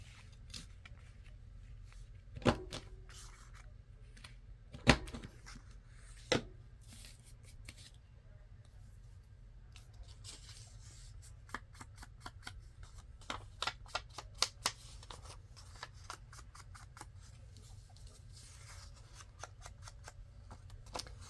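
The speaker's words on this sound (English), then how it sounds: "Now I want to round my top corners." A corner rounder trims the paper corners of a journal file folder insert, giving a few sharp, close punch clicks followed by a scatter of quiet paper handling ticks in a hushed room.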